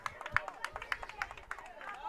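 Under-13 Prince Edward Island boys soccer team cheering and chanting from the sideline at an under-14 Atlantics match, a run of quick claps and shouted calls blending into moderately distant crowd babble.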